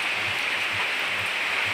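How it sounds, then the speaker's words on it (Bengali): Heavy rain falls during a Kalbaishakhi storm over a village field, a steady broadband roar with wind, brief and unbroken with faint low thumps beneath. "এইভাবে বৃষ্টি হচ্ছে"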